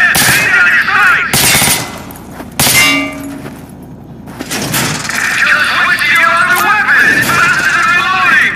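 Rapid rifle gunfire and metallic clangs of targets being hit at a shooting range in the video game Call of Duty: Modern Warfare 2, loud bursts with an instructor shouting over them.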